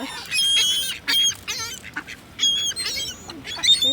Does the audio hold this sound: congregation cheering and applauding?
no